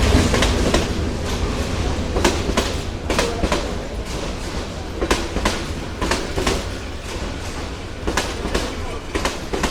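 A passenger train bound for Dhaka, Bangladesh rolls in close by with a rumbling drone and repeated rhythmic clickety-clack of wheels over rail joints, with faint station murmur underneath.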